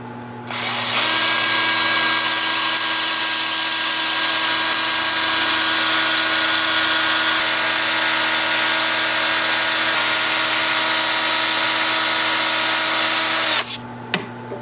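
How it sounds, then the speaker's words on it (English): A sycamore bowl turning on a wood lathe is sanded with 2-inch sanding discs on a power drill, making a loud, steady whine and abrasive hiss that runs without a break for about thirteen seconds and then stops. "I'm starting with 80 grit, and I'll work up through 400 grit with the 2-inch sanding discs"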